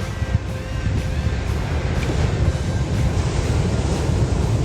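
Ocean waves roll in steadily at a Jersey Shore inlet near Point Pleasant, a continuous broad wash of surf with wind buffeting the microphone, no talk over it.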